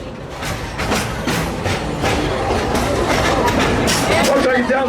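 Amusement park train ride at Silver Dollar City, loud steady rumble and rhythmic clatter of wheels on track, with someone talking over it throughout.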